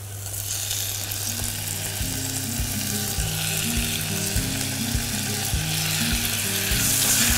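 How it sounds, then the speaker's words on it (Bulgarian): Green onions and tomatoes fry in heated olive oil, a steady close sizzle carrying on throughout with a repeating low mechanical hum and rhythmic tonal pulses underneath. "След като зехтинът вече се е загрял, слагаме вътре пресния лук. Пресният лук вече се е задушил, затова добавяме доматите."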